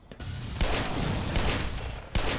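Rapid bursts of gunfire in the Black Mesa video game's Cooling Towers level, loud and dense, with a sharp renewed volley at the very end and no talk over it.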